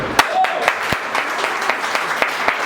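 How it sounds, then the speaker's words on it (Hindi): Enthusiastic applause from an audience at a business leaders' meeting, a dense wash of clapping with a few louder individual claps standing out. "नीतू जी, आपकी जोरदार ताली हुई।"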